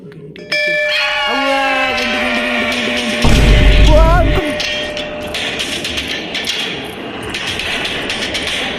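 A bell rings in the horror video game Kamla, a sharp struck tone with bright overtones that hangs and slowly fades, cut across midway by a brief loud rumbling burst before the ringing trails off under low background noise.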